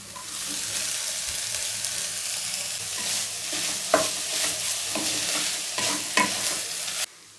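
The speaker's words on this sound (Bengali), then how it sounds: "এটা একটুখানি ভাজা ভাজা হবে তারপর আমি ওই চিকেন যেটা কুচো করে রেখেছিলাম চিকেনগুলো এটার মধ্যে অ্যাড করব" Chopped chicken frying in a pan for momo filling, a steady hiss of oil with repeated scraping knocks of a spatula stirring, close and moderately loud until it stops abruptly, no voices.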